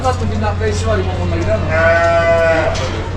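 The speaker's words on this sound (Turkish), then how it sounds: "Türk bayraklı koyun." Sheep bleat repeatedly at a crowded livestock market in Kadirli, Turkey, during the Kurban sacrifice season, with several overlapping, wavering calls over a steady background hum of the busy market.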